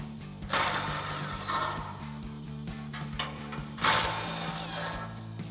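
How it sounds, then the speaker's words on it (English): An impact wrench with an 18mm socket spins off the bolt plate nuts on a 2021-2023 Ford Bronco front bumper, giving two sharp, loud bursts of rattling whir over a low steady hum, close up. "we're going to grab our 18mm socket on our impact and remove the 2 nuts on each bolt plate here"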